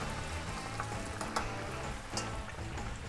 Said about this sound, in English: So we got these frying.